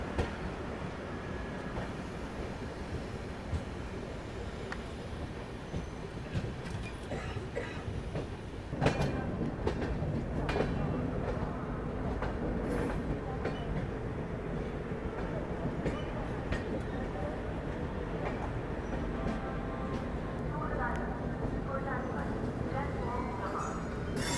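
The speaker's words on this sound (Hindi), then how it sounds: "Unique double decker train." A unique double-decker train runs past near Ghaziabad during a journey on the Swatantrata Senani Express, a continuous heavy rumble with rhythmic wheel clatter over the rails, while voices talk over it.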